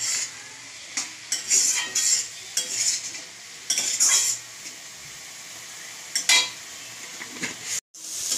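Greens with eggplant cook in a pan while a spatula stirs and scrapes at irregular intervals, sharp metallic strokes standing out over a soft, constant sizzle.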